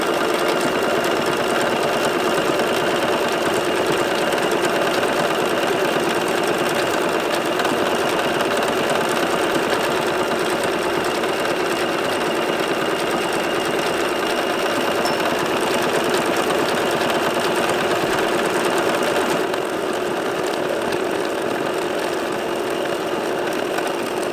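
A sewing machine runs on its own after its stop button is pressed, with no foot on the pedal, while a table runner with a row of pumpkins is stitched; a steady, close mechanical whir continues unbroken for the whole stretch.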